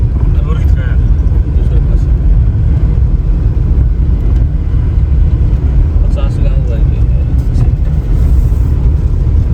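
A car on the road to a farm in Mandla, Madhya Pradesh, heard from inside as a steady, loud low engine and road rumble with no breaks, with people faintly talking over it.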